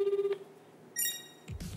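An incoming call rings on a business office telephone in two electronic ring bursts separated by a pause, loud and close, with a brief thump at the end.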